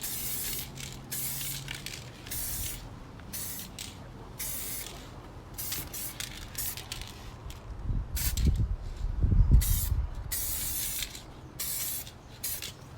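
Aerosol spray paint hisses in repeated bursts as the final coat goes onto a 2017 Toyota Prius tow hook cover, close and steady, with louder sprays near the end and no talking.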